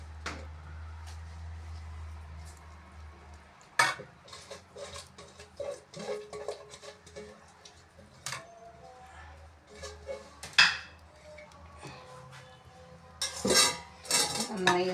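A spoon clatters and scrapes against a pot while chicken curry masala with sautéed onion, ginger and green chilli is mixed, giving irregular metallic clinks and knocks, close and fairly loud, with a low hum early on.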